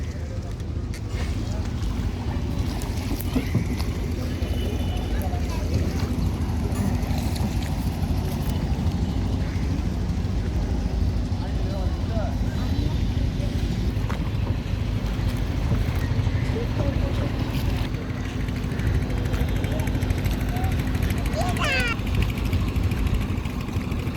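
A boat carries passengers across water, its steady low engine drone and water wash running throughout with wind buffeting, while people talk and call out nearby.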